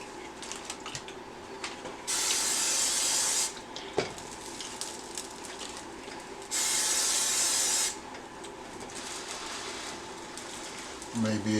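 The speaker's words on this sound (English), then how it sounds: "So I'm using this spray butter." Two bursts of pressurized spray butter hiss onto burger buns, each lasting over a second, sound between quiet background handling and faint talk.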